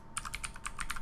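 Keys on a computer keyboard tap out a short name in a quick burst of about eight light, close clicks, with no talking.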